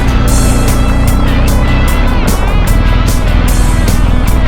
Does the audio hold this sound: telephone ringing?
no